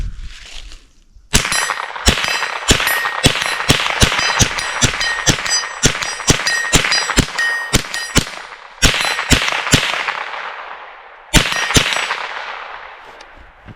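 A .22LR firearm fires twenty rounds at a target, sharp cracks in an irregular string with short pauses, each shot ringing with a metallic ping and brief echo, loud and close with no talking.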